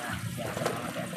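Water running from a tap while potatoes are washed for menudo, a short, steady splashing gush close by.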